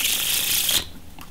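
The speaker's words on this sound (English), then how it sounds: "If I listen to the cards as I shuffle them, I can actually hear information about your card." A deck of playing cards riffle-shuffled up close, a dense rapid flutter of card edges lasting most of a second before cutting off, followed by a faint soft rustle.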